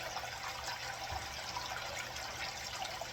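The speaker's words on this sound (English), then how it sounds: "I like how well the water flows." Water rushes steadily through a gold prospecting sluice, a continuous broad hiss and gurgle of flowing water without pauses, fairly close and with no voices over it.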